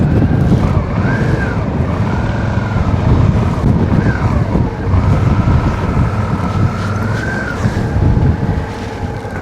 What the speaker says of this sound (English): Don't know whether you can even hear me with that wind like this